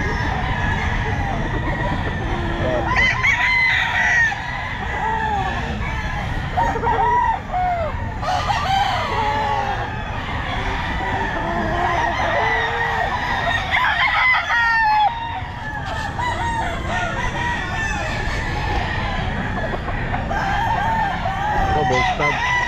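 Roosters crow again and again at a busy Sunday pet market, several birds overlapping near and far amid clucking and steady crowd noise, with voices talking throughout.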